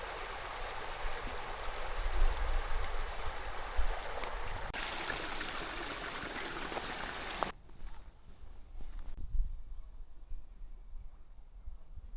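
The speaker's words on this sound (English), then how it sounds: "It's a pretty calm bit of river." Calm, clear river with a small waterfall and a tributary joining it, a steady broadband rush of flowing water close by that shifts and softens partway through.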